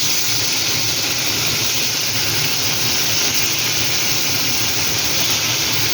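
Fish dropped into hot oil and frying, a dense, loud, continuous hiss and sizzle with no talk.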